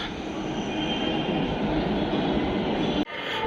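A Pune metro train at a station gives a steady, loud, broadband rumble that fills the whole stretch, with a sudden brief dip near the end and no one speaking.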